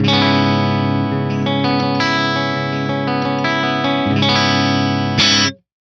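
Clean electric guitar chords ring out with sustained, bright notes and light shimmer, changing a few times before stopping abruptly.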